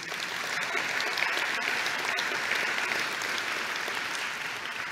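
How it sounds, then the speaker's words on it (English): An audience at an organisation's meeting applauds the treasurer and finance committee: a dense, even wash of many hands clapping that is sustained for several seconds at a moderate distance. "you want to give him a round of applause, him and the finance committee"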